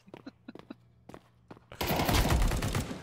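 A new gun in a video game opens up after a few sparse single shots and footsteps, breaking into a loud, sustained burst of rapid automatic fire that dominates the second half.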